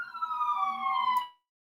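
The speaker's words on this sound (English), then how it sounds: "someone's got a police siren going by them" A police car siren sweeps past in a steady descending wail, fairly close and clear, then cuts off abruptly, with faint road noise beneath and no talk.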